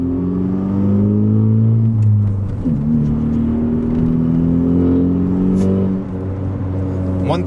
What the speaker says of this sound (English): First gear to second.